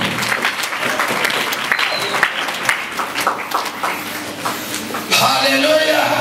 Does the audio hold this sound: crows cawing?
no